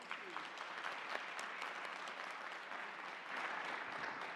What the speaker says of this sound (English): Ladies and gentlemen, a big round of applause to the 42nd President of the United States, Mr. President Bill Clinton.